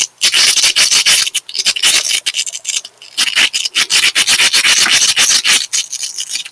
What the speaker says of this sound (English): I'm going to start by rubbing these two rocks together.